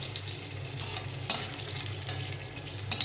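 Dried red chillies fry in mustard oil with a soft, steady sizzle and a few sharper crackles and pops near the start and end, quiet and close, with no talking.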